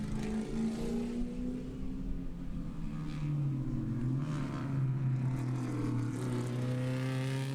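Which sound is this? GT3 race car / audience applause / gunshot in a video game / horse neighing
GT3 race car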